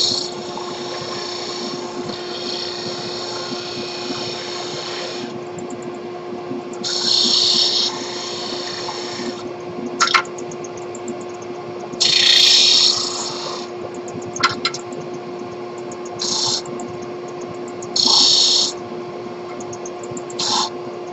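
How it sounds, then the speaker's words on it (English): A disc sander runs with a steady whine and dust collection, while a small piece of wood for a pen top is pressed against it in several short, louder grinding bursts. "Take that back to the disc sander and sand it."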